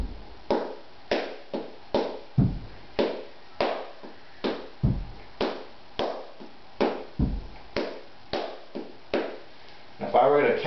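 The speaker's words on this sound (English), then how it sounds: "we're going to hold back and hit a contratiempo as our first Palmas" Flamenco palmas for bulerías: a steady run of sharp, close handclaps in offbeat contratiempo rhythm, repeated evenly on their own with no talk, with a brief burst of other sound at the very end.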